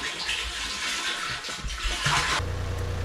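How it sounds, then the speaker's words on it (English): Water pours into a farm sprayer tank with a gushing, splashing rush, close by, shifting near the end to a lower, steadier hollow filling tone. "Alright, so we got the sprayer filled up."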